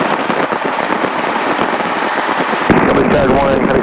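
A helicopter runs with a steady loud rotor and engine drone under someone talking, the tone shifting to a rougher, heavier thrum partway through.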